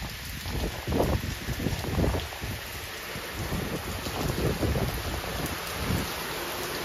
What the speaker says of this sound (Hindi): बरसात आ रही है एक नंबर ये देखो।